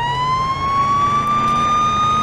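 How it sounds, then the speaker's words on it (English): Police car siren from the Police Simulator patrol game wails loudly and steadily, its tone sliding slowly upward over a rumbling engine and road bed, with no pause throughout. "should we hit the sirens and get back to the station?"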